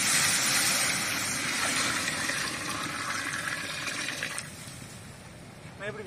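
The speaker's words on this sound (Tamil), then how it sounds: "அரிசிக்கு தேவையான தண்ணி சேர்த்துக்கலாம்." Water poured into a cooking pot for stingray fish biryani, adding the water needed for the rice; a steady, fairly loud pouring rush runs through most of the clip, easing off toward the end.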